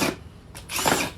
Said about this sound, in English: I gotta go grab the drill.